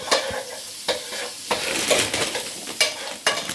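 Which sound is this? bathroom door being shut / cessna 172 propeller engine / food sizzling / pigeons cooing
food sizzling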